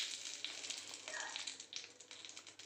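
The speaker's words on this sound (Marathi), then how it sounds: "तूप गरम झालं आहे. आता आपण त्यात जिरं टाकून घेऊया आणि कढीपत्ता." Cumin seeds and curry leaves sizzle steadily in hot ghee for a curd-rice tempering, a continuous close hiss with small crackling pops and no talk.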